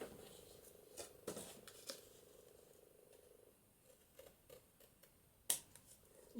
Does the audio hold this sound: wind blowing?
no